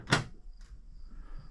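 An Oldsmobile car door opens during driver's-side fender work, with one sharp close clunk, a softer click just after, and then a quiet hum in the background.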